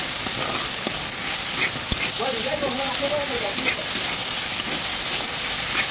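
Elephant apple (outenga) frying in a pan gives a steady, close sizzle with faint crackles and occasional stirring clicks.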